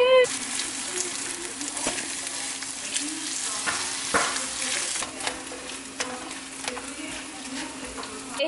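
Eggs fry in a pan with a tortilla heating alongside, a continuous crackling sizzle with scattered sharp pops and scraping stirs, close and steady.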